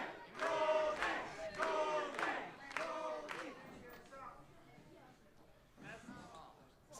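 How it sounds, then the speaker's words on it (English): A wrestling crowd at a gauntlet match chants a name in loud, rhythmic bursts during the first few seconds, then the noise tapers into scattered cheering and murmur. "Crowd certainly getting behind Goldie here."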